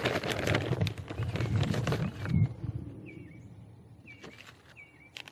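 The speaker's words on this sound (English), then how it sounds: "there is a beautiful bird singing right now." A bird singing in a spring garden: after a stretch of rustling and handling noise, a few short, clear whistled phrases ring out at intervals, moderately distant and faint against a quiet background.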